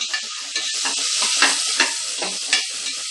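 Onions, curry leaves and ginger-garlic paste frying in a pressure cooker for moong dal khichdi, a loud close sizzle broken by repeated scraping strokes of a spoon stirring the pan.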